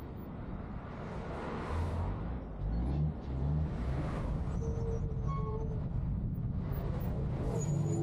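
A semi truck drives along a road at a traffic light, its low engine rumble and whir rising faintly over several seconds against distant traffic, with a few thin tonal squeaks.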